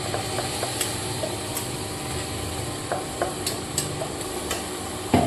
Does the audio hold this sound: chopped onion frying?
yes